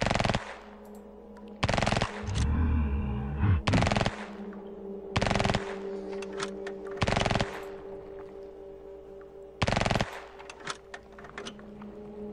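Automatic gunfire in Chromosome Evil, six loud separate bursts shot out through a window, each about half a second long, with a low mechanical hum between them.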